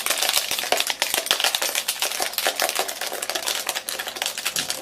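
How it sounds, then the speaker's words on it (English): A bunch of metal keys is shaken hard against the back of a black iPhone 7 to scratch it, producing a loud, dense, continuous rattle of jangling clicks and scrapes. "just shake things up with these keys on this phone"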